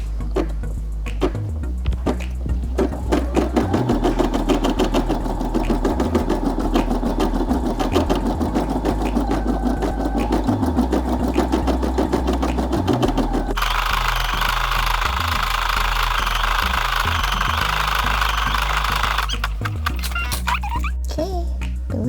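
A Brother SE600 embroidery machine stitches a cartoon city design, running as a steady, loud mechanical whir with a rapid needle rhythm that shifts pitch midway as the stitching changes, with no talking over it.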